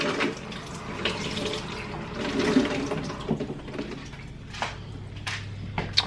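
Celery hearts rinsed under a running kitchen tap, a steady wash of flowing water with small splashes and clatters, fairly quiet and close, without talk.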